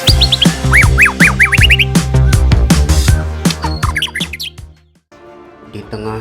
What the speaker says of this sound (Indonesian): terdengar suara burung yang begitu indah, menenangkan hati